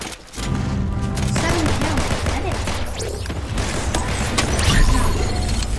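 Dense bursts of gunfire fill a Fortnite match, sharp shots layered over continuous loud game noise, with voices talking over the action.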